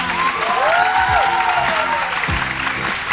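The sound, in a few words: audience applause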